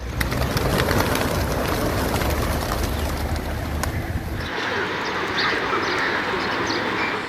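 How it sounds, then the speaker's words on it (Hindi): Soft pigeon coos and bird calls over a steady hum of city traffic in Karachi, with an engine rumble that fades midway. "शहर में चौराहों, सड़क किनारे कबूतर चौरंगियां मौजूद हैं।"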